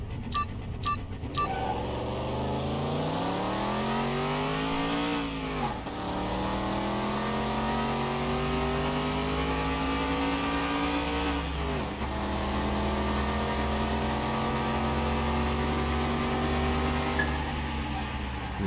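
A Cadillac Eldorado with an OHV engine racing a DeVille in Car Mechanic Simulator 21: a steady, loud engine drone climbing in pitch through gear changes, with brief drops at each shift over a long run.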